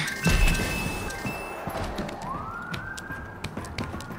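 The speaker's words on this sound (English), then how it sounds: "I hear police sirens." Police sirens in a Toy Story video game, a wailing siren tone rising and holding under clatter and a crash at the start, moderately loud and steady.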